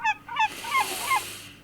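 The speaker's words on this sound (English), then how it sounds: "Stupid seagull." Seagull in the video game Passive Kingdoms giving a string of four sharp, nasal squawking calls in quick succession, loud and close, with no other sound around them.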